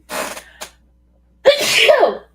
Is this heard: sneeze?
yes